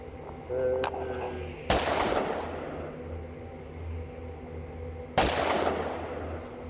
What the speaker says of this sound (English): Do you even know what you're shooting at?